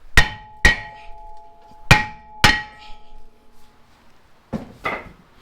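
A hammer taps on a stuck brake rotor of a 2013 Toyota Highlander: six sharp metallic clangs, two quick pairs then a later pair, each ringing briefly before fading, close and loud with no talk.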